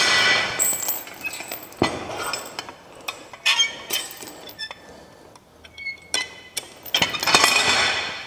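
Metal chain and carabiner clinking and clanging during home workout setup with a bar, a series of sharp irregular metallic clinks, some loud and close, others lighter, with no talk.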